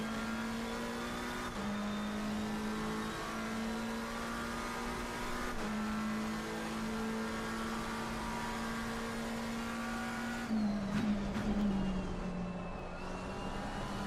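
Race car engines in Assetto Corsa Competizione at Suzuka during an endurance race, a steady loud drone holding pitch with brief gear-shift dips, and other cars roaring past near the end while overtaking.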